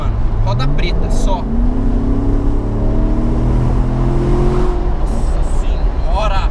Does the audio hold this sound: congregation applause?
no